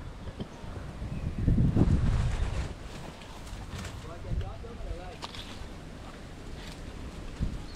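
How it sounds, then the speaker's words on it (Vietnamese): Strong wind outdoors in the Vietnamese countryside during a wild honey hunt, gusting in low rumbling bursts against the microphone, strongest early on, with people talking over it. "Quá gió cả nhà."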